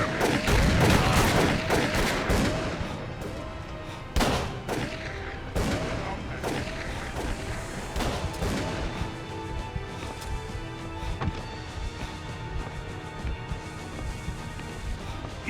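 Gunfire in the video game Call of Cthulhu: Dark Corners of the Earth comes as dense, loud volleys of shots over a rumbling game backdrop, easing into scattered bursts and single reports later on.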